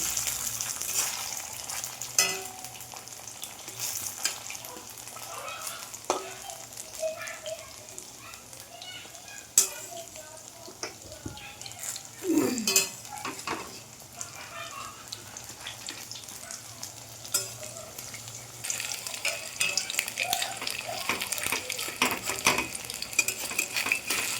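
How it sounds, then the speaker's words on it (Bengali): Sabudana vada frying in hot oil in a pan, a steady sizzle broken by clinks and scrapes as the pieces are turned, with some background voices. "এবার উল্টে পাল্টে করে ভেজে নেব"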